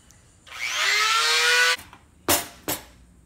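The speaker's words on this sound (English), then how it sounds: "I'll just take the little grinder here to it" A small angle grinder whines steadily on metal for over a second as it strips paint, then cuts off, followed by two short sharp bursts of grinding, close and loud with no talking.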